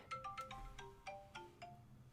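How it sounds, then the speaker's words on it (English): A phone-style alarm clock chimes a quick run of bright, melodic electronic tones, faint and distant, over a quiet room hum for about two seconds. "that was my alarm clock"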